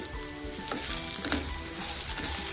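Tomatoes frying in hot oil in a pan while biryani is being made, giving a steady close sizzle with some brief stirring scrapes and a few louder crackles partway through.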